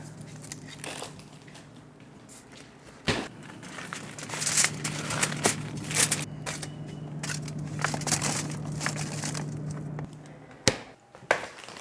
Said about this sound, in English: Okay, these I can put in a bag now.